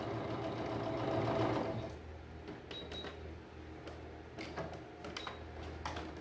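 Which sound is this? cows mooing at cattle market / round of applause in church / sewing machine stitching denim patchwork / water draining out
sewing machine stitching denim patchwork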